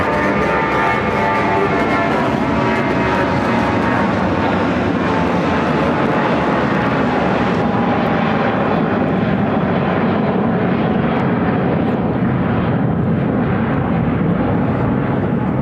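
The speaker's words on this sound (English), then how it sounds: "This is United Airlines 1414 taking off to Sacramento on the A319." A United Airlines Airbus A319 takes off at Chicago O'Hare, bound for Sacramento: a loud, dense jet engine roar that dominates throughout, then thins in its upper hiss as the aircraft climbs away.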